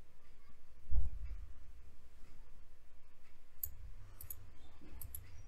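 A single sharp computer mouse right-click at about one second, faint and close against a quiet room hum, while someone works on a WordPress logo design; a few soft ticks follow later.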